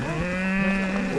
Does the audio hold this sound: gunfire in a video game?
no